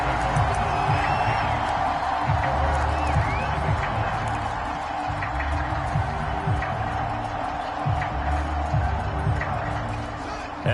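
Stadium crowd noise in a PS4 American football game, a steady, loud roar of cheering and clapping that carries through the whole stretch, with faint talk mixed underneath.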